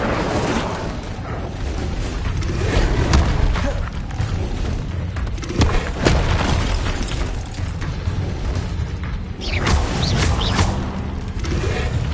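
In the Hogwarts Legacy video game, the Incendio fire spell is cast repeatedly amid a dense, loud wash of whooshes, fiery bursts and booming impacts that continues without a break.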